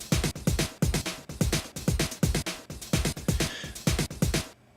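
A chopped drum break sliced into short pieces and resequenced into a pattern, loud and punchy, with regular kick and snare hits and busy cymbal wash, stopping abruptly near the end.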